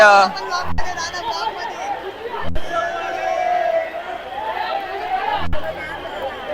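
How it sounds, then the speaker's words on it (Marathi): Large crowd chattering along a Ganesh procession route in Mumbai, steady dense babble with sharp bangs or claps at intervals. "भरपूर गर्दी झालेली आहे"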